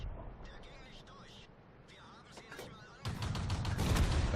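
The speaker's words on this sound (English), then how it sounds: "artillery missed." Gunfire and explosions in World of Tanks, faint and scattered early on, then a loud, dense burst of booming fire rising over the last second and a half while a player talks.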